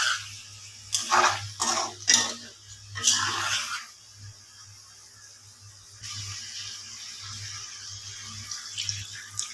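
Water poured into a pan of rohu fish curry with flat beans and potatoes during cooking, heard as several short splashy bursts followed by a steadier trickling pour and a low background hum.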